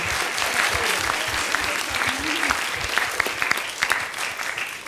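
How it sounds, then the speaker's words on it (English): Warm audience applause rolls on at an event honoring photographer Lauri Lyons, a dense wash of clapping with a few sharper claps standing out near the end and faint voices mixed in. "And yes, another round of applause for sure."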